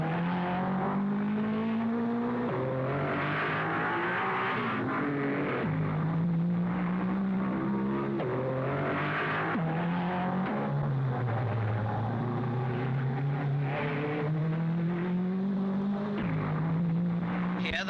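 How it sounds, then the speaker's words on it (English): 1955 Monaco Grand Prix race cars, Mercedes, Lancias and Maserati, blasting away from the railway arches onto the seafront; engines snarl and rise and fall in pitch continuously as cars pass and accelerate, a steady loud motor roar throughout. "Here the cars are shooting away from the railway arches onto the seafront."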